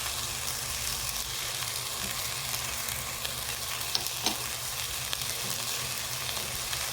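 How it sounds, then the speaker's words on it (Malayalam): Spices and biryani masala sizzle in hot oil while being sautéed for a cauliflower pulao, a steady, close frying hiss with a few faint clicks of stirring. "ഇതിലിട്ട് നമുക്കൊന്ന് വഴറ്റിയെടുക്കാം."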